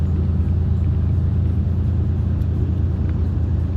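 A big tour bus drives on an Alaskan road near Talkeetna, giving a steady, loud low engine rumble and road drone throughout, with no talk over it.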